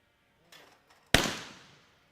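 A shotgun fired at a clay target in Olympic trap competition: a single sharp, loud blast with a short decaying tail, preceded by a faint click and brief noise, no voices.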